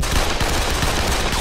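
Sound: gunfire from dream bullets in animated cartoon

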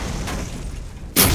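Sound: cannon firing in the video game Borderlands

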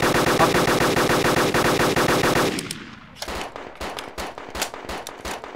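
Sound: M2 machine gun firing in video game DayZ

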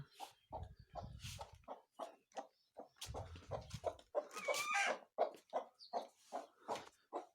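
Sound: broody hen clucking

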